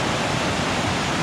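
A creek swollen after rain rushes loudly and constantly, a dense close roar of churning water with no breaks and no voices.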